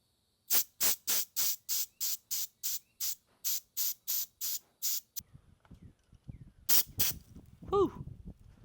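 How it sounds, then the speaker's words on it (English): Refrigerant charging hose being bled of air while recharging the A/C on a Hitachi EX100-5 excavator, a rapid series of about a dozen loud, sharp hissing spurts, then quieter handling noises and a short vocal exclamation. "I'm gonna go ahead and bleed the air out of this hose"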